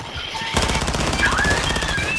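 Rapid automatic gunfire in Call of Duty: Modern Warfare II, a continuous loud burst of shots that starts half a second in and keeps going to the end.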